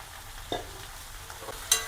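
Eggplant frying with onion in a pan: a faint, steady sizzle with a few soft scraping stirs and clinks of the spoon against the pan, with no talk.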